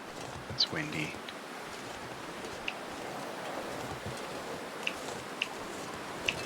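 Wind blows across a cold, wintry landscape in the survival game The Long Dark, a steady low whooshing rush with a few faint ticks and short bursts of sound over it.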